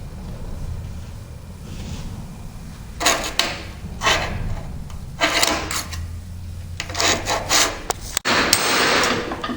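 Polishing the end of a Ford F150 or Bronco front axle spindle, heard as bursts of dry rubbing and rasping strokes at close range, starting around three seconds and repeating in uneven runs over a steady low background.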